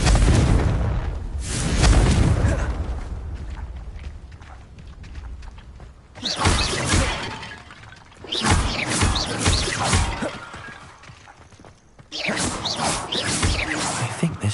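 Repeated Confringo blasting spells in Hogwarts Legacy erupt as loud booming explosions with crashing debris, several separate blasts spaced a few seconds apart, each decaying into rumble.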